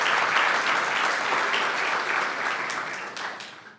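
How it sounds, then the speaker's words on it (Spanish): Applause from a church congregation, a full burst of clapping that starts strong and gradually thins and fades over a few seconds, with no talk on top. "Un aplauso."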